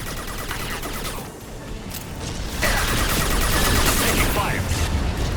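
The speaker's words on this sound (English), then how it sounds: "Taking fire." Sustained gunfire in the sci-fi shooter Mass Effect 2, a dense continuous rattle of shots that grows louder midway and holds steady to the end.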